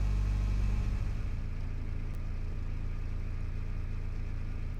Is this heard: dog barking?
no